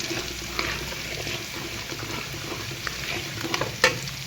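Garlic frying in a pan while making amba bhadang, a spiced puffed-rice snack, gives a steady close sizzle with a few soft stirring scrapes and one brief sharp clink near the end.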